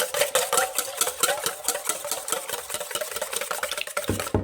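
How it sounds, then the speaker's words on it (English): One large egg whisked in a bowl, a quick rhythmic tapping and scraping that repeats several times a second, close and steady, with no talking. "For our wet ingredients, we'll mix up our egg, 1 large egg. Whisk this up."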